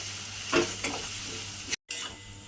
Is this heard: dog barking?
no